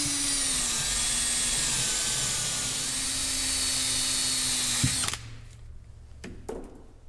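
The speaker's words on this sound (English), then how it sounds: "just take and clean up the shaft that the wiper arm sits on here with a wire wheel or some sort of abrasive pad" A power drill spins a wire wheel to clean the rear wiper arm shaft of a 2012 Subaru Forester, giving a loud, steady whine for about five seconds that then stops, followed by faint clicks.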